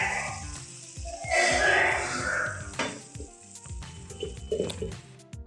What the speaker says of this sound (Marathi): आता आपण हे शिजवून घेतलेले छोले त्या पाण्यासकट टाकूया आपण.